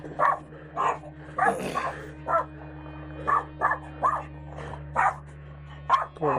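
A small dog barks in repeated short bursts, about a dozen yaps spread irregularly over several seconds, fairly close, over a steady low hum.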